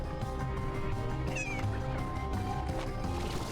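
Sea hen in Slime Rancher 2, brief clucking squawks over a dense, steady game backdrop of music and ambience, with no voices.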